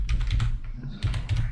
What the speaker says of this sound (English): Oh, jeez, I'm typing the wrong thing.